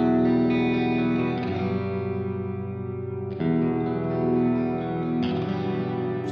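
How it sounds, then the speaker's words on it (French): Sustained electric guitar chords drenched in heavy plate reverb from an effects pedal, each new strum swelling into a long shimmering wash that rings on between changes, with no voices. "vraiment les notes sont plongées dans la reverb"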